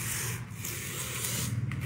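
Close, steady rasping of sandpaper rubbing over wood in repeated vertical strokes, moderately loud, with no speech.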